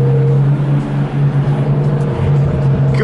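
A convoy of McLaren and Lamborghini sports cars near Blenheim Palace produces a loud, sustained engine drone with rising revs and a passing surge near the end, with some voice underneath.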